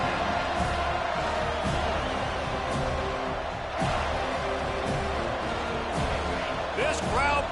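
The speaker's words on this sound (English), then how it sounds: "This crowd bringing the energy and noise early." A football stadium crowd roars as a steady, dense wash of noise through the whole stretch, with a few sharper bursts and cheers rising from it, while a commentator talks over the top.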